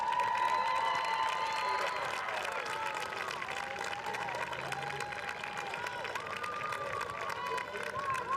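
A crowd at a boys' soccer district championship applauds and cheers the Great Crossing Warhawks, sustained clapping and shouting at moderate distance with an announcer's voice over it.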